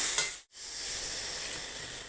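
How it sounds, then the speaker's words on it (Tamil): Loud, steady sizzling hiss of tamarind water hitting a hot pan of ground spice paste for a kuzhambu, briefly cut off for a moment before the frying hiss resumes. "இப்போ நான் அந்த புளி தண்ணி ஊற்றிக்கிறேன்"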